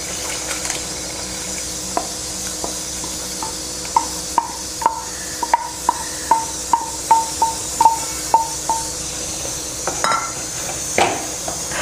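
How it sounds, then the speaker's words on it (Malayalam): Coconut paste is stirred into a curry in a seasoned clay pot. A spoon scrapes and taps the pot in a steady run of light, regular clinks over a soft background hiss. "ഇനി ഇതിനകത്തേക്ക് നേരത്തെ അരച്ചു വെച്ച ആ തേങ്ങയുടെ കൂട്ട് ചേർത്ത് കൊടുക്കാം"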